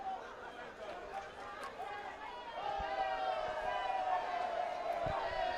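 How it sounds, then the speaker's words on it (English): Crowd at a Jamaica Premier League football match between Mount Pleasant F.A. and Portmore United F.C. murmurs, then swells into a sustained, louder roar partway through, with distant general babble. "that roar that you hear from the crowd"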